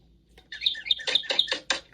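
A pet parrot in a cage squawks in a rapid series of loud, close, harsh calls. The calls come in short bursts after a brief quiet start.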